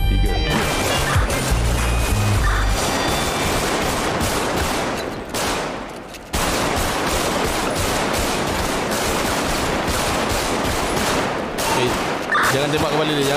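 Dense, sustained automatic gunfire crackles through a Grand Theft Auto game session on a Malaysian roleplay server, loud bursts nearly continuous for most of the stretch with a short lull midway, mixed with speech.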